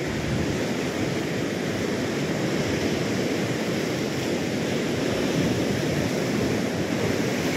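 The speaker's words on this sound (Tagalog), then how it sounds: "Lakas ng alon na yon, di ba?" Strong ocean waves crashing and surging close by, a continuous loud roar of surf with wind rushing across the microphone, with no voices.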